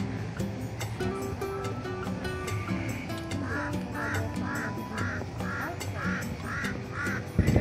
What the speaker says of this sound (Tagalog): Kasali ba yung uwak? May uwak eh oh.